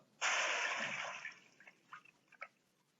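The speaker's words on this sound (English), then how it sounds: "The water gushes out very fast." Water from a long, heavy hose attached to a fire truck bursts out in a loud, fast rushing gush in a children's cartoon, fading over about a second into a few short splashes and drips.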